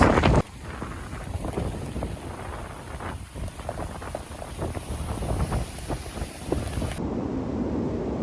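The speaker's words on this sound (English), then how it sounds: "We're getting sheets of rain." Hurricane wind and driving rain on the Chesapeake Bay, a continuous roaring gust noise buffeting the microphone with hissing rain throughout, loud and steady with no talk.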